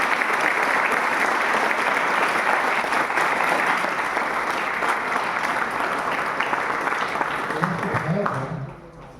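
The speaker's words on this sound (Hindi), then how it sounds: "सर के लिए एक बार जोरदार ताली" Seminar audience in a college hall bursts into loud, continuous clapping that holds steady and then tapers off, with a voice heard briefly at the end.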